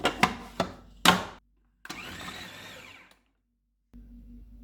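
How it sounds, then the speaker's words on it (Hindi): An electric food chopper mincing raw chicken: several short sharp motor bursts, then a longer whirring run of about a second, a pause, and a lower hum starting at the end, close and loud. "चिकन को चॉपर में डालेंगे और इसका कीमा बनाएंगे।"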